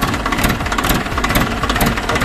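A tractor engine runs steadily at close range, with a loud, dense, throbbing rumble.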